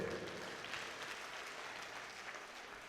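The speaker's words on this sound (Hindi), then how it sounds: "आपकी तालियां फिर भी मुझे कम लग रही हैं।" Steady applause from a live audience at a Hindi kavi sammelan poetry gathering during a Dussehra fair, sustained clapping filling the whole stretch at a moderate, distant level with no voices.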